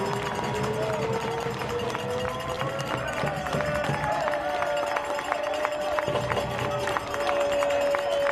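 A home crowd at a Forward Madison FC soccer match against Westchester SC roars steadily after an early goal, a sustained wash of cheering with a commentator talking over it throughout.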